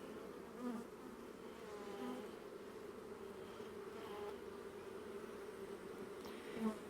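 Honey bees swarm around an instrumentally inseminated queen, a steady close buzzing hum filling the whole stretch with slight swells and no talk.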